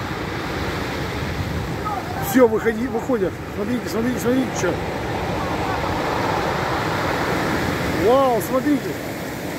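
Stormy waves on the Sea of Okhotsk roar in a constant loud surge of surf with a steady wash of water and wind. Excited voices call out over the noise of the waves.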